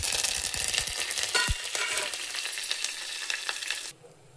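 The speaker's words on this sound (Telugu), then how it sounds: "ఆయిల్ అయితే వేసేసి పోపు దినుసులు ఇంకా రెడ్ చిల్లీ అయితే వేసాను." Tempering spices and red chillies sizzle loudly in hot oil, a dense crackling hiss with a few sharp pops that holds steady close by, then cuts off suddenly near the end.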